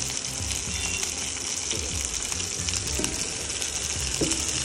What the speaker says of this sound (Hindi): इनको लो फ्लेम पे हमें जो है फ्राई करना है ताकि ये कच्चा ना रहे और पक जाए